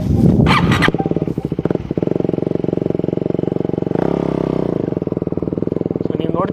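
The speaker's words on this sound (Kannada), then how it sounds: "ಗಾಡಿ ಸ್ಟಾರ್ಟ್ ಮಾಡಿ ನಾನು ಥ್ರಾಟಲ್ನ ಎಂಗೇಜ್ ಮಾಡಿದ್ದೀನಿ" A motorcycle engine runs with the throttle held open for wheelie practice, making a loud, fast, pulsing chug that stays close and steady, with someone talking over it.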